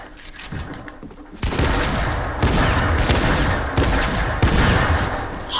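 Rapid bursts of video game gunfire, including a shotgun, crack loudly and densely in a chaotic firefight, the shots coming in repeated clusters that build from a quieter start into continuous heavy fire.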